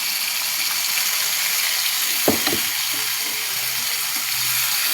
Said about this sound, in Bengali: তেলে ভেজে নেব সুন্দর করে, লাল লাল করে তেলে ভেজে তারপরে পটল চচ্চড়িটা করব